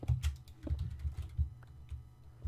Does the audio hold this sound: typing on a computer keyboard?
yes